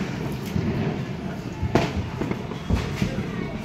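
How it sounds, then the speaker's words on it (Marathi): Firecrackers bursting during a festival celebration at night, with several sharp distant pops and bangs scattered through a noisy background and a voice speaking faintly underneath. "आज जरा फटाक्यांचा जल्लोष आहे"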